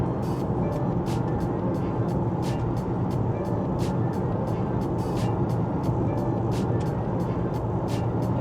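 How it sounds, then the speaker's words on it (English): Steady broadband road roar inside an Opel Insignia 2011 cabin at around 90, dominated by tire noise on the pavement, continuous and even with faint ticking above it. "It's actually a lot of tire noise."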